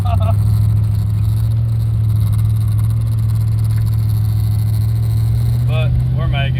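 Steady low engine drone and road noise from a car on a test drive, continuous throughout with a voice speaking briefly near the end.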